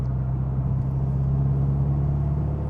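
A Volkswagen Mk8 GTI with an AWE exhaust in sport mode gives a steady, deep exhaust drone with a low hum. It holds evenly for the whole stretch with no clear revving and no talking.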